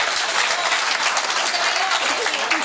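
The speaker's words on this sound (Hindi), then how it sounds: "ताली बजाओ मैडम जी के लिए।" Sustained audience applause at a Hindi kavi sammelan comedy poetry show, a dense, steady wash of clapping from a crowd filling the whole stretch without a break.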